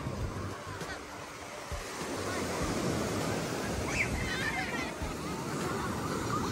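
Ocean surf at the Bali coast washes in a continuous roar under gusting wind that buffets the microphone, steady and fairly loud throughout, with no clear speech.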